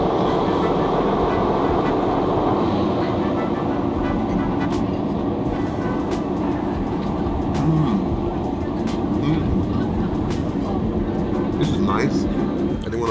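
The British Pullman luxury train running, a steady loud rumble and rattle of the carriage on the rails, continuous throughout with faint clicks.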